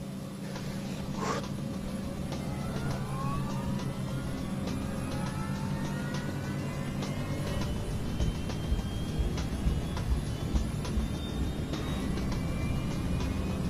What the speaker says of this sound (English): Sukhoi 36801, cleared for takeoff.